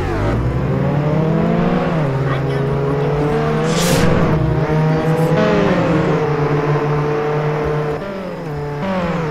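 A car engine drives steadily in a Jailbreak video game, droning and revving with shifting pitch, loud and continuous with a voice talking over it.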